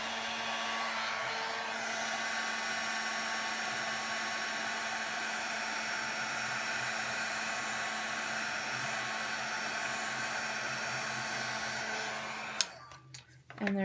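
A heat tool drying stamped ink on a candle blows a loud, steady whooshing hiss for about twelve seconds before it cuts off abruptly.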